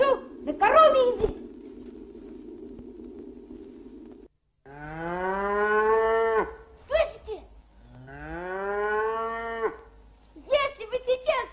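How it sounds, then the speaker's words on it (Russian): Two long, drawn-out cow moos come from a talking machine in a 1970 children's TV play, separated by brief bursts of speech. A steady low hum is heard at the start. "А теперь эту фразу я перевожу на коровий язык."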